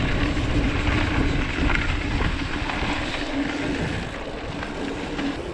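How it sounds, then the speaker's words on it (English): Wheels of an electric bike rolling along a boardwalk, giving a steady, fairly loud rumbling roar with a faint hum, continuous and unbroken with no voices. "really the only noise you're hearing there is the wheels on the boardwalk."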